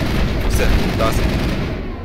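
Dense, loud gunfire rattles through a firefight in the video game Mass Effect, with rapid overlapping shots forming a continuous burst that lasts about two seconds.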